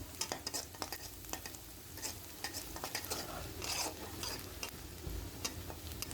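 Chopped garlic and onion frying in a pan, a close crackling sizzle broken by repeated scraping and stirring strokes from a utensil, with no voices.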